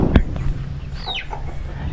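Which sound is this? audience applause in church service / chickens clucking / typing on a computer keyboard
chickens clucking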